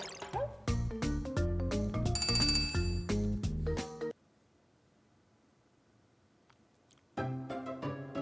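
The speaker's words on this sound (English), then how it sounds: "I need to use the 100-year-old bell to take the shortcut" Bell chimes from the 100-year-old bell in Tomba! Special Edition ring out over bright, busy game music, then a quieter ambient stretch follows before the melodic music returns loudly.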